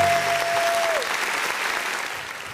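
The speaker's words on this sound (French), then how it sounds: "ça s'applaudit quand même." An audience in a comedy club breaks into full, sustained applause that stays thick and even throughout, starting with a brief high electronic tone that cuts off after about a second.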